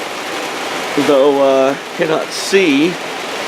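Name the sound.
rain falling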